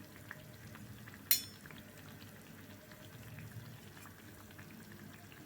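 Sugar athirasam, sweet dough discs, frying in hot oil, giving a steady close sizzle and bubbling throughout with one sharp clink near the start.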